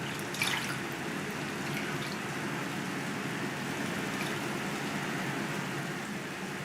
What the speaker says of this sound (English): Many becomes a gentle rain.